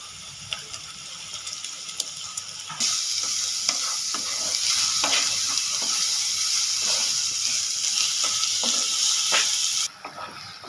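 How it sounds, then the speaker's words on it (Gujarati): Chopped onion frying slowly over low heat in a pan for Gujarati ringan bharta (eggplant oro), a steady bright sizzle with stirring scrapes and clicks, growing louder midway and continuing close up without any talking. "ડુંગળી આપણી બ્રાઉન કલરની થાય ત્યાં સુધી એને ધીમા તાપ ઉપર શેકાવા દઈશું"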